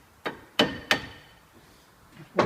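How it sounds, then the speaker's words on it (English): A hammer tapping front brake parts on a Citroen C2 1.1, four sharp metallic knocks spaced unevenly, the middle two close together and another pair at the end, close and crisp in an otherwise quiet workshop. "take our hammer, give these a tap"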